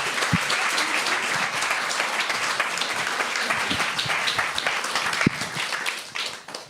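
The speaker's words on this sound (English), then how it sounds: "Give them a warm applause." Warm applause from a seated audience at a panel discussion after speakers are introduced, a dense steady wash of clapping lasting several seconds before tapering off at the end.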